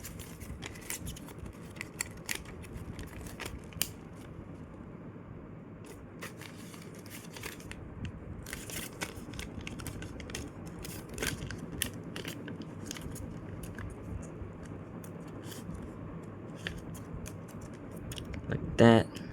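Paper being creased and folded into a jet-style paper airplane: repeated close, crisp crackles and scrapes of the sheet at an uneven pace, with soft speech underneath.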